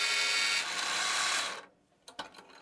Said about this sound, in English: Then I drilled a half inch hole with a Forstner bit so the bottom of the hole would be flat.